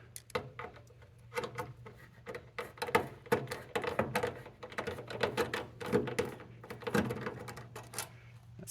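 Screws being removed from the headlight surround of a 1958 Chevrolet Viking, a rapid series of close, sharp clicking and ratcheting taps in uneven bursts, fairly quiet.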